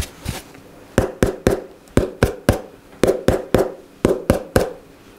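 A violin plate is tapped by hand at different spots, giving a series of sharp, close knocks in irregular clusters with short resonant decays. The pitch shifts slightly from tap to tap, with brief pauses between groups.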